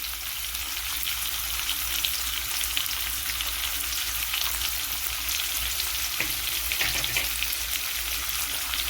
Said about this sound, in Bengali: দিয়ে এবার এটাকে খুব ভালো করে আমাদেরকে ভেজে নিতে হবে।